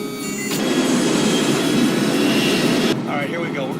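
An aircraft comes in to land with its landing gear down, its engine a loud, steady roaring drone that cuts off sharply near the end, followed by a voice speaking.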